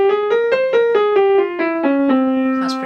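A Phrygian dominant scale, the harmonic minor scale started on its fifth degree, played as a run of about ten clear sustained notes with an exotic flat second, stepping up and then descending, alone and close.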